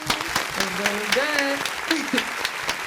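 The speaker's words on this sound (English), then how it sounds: "So let's give a round of applause, baby." Brief applause and clapping for a guest at the start of an interview, mixed with voices talking and calling out over the claps.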